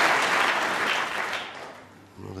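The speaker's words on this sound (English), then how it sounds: "applause" Snooker audience applause in a championship semi-final arena, a warm wash of clapping that fades away, followed by a commentator's voice starting at the end.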